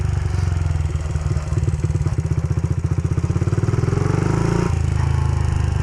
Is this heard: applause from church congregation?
no